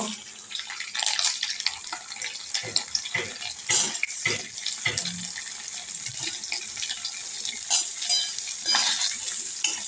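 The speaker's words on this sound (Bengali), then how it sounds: "ঘি আর রিফাইন মিশিয়ে পনিরটাকে ভেজে নিচ্ছি" Homemade paneer fries in a mix of ghee and refined oil, giving a close, crackling sizzle broken by repeated clinks and scrapes of stirring, with a stretch of running water from a tap and no speech.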